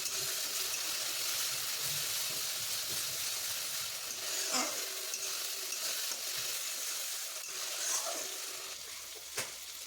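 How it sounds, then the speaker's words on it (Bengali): Chilli powder and turmeric sautéing with oil in a pan for mutton khichuri, a steady close crackling sizzle across the whole stretch with a few stirring scrapes and clicks, no one speaking. "চা চামচ লঙ্কার গুঁড়ো, 1 চা চামচ হলুদ দিয়ে ভালো করে কষিয়ে নেব।"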